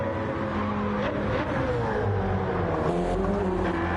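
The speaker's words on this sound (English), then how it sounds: "So you can see Rob on drums holding the position as they go through Griffin's Bend and towards the cutting." GTE race cars in Gran Turismo 7 race through Griffin's Bend toward the Cutting at Bathurst: a loud, continuous engine whine that rises and falls in pitch with gear changes, steady and close.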